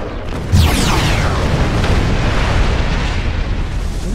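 Artillery firing and explosions in a battle, a steady wash of heavy rumbling booms and bursts with a sharp blast early on and whistling sweeps above, continuing loudly throughout.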